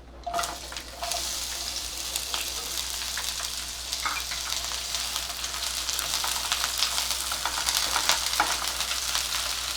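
Two sliced onions with whole spices sizzling and frying in hot oil, a steady crackling hiss with occasional stirring clinks, close up and without talk.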